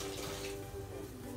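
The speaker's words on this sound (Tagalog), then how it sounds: "Ang tubig." Tap water runs steadily into a kitchen sink or pot, a soft, continuous splashing hiss heard at low level with a faint hum underneath.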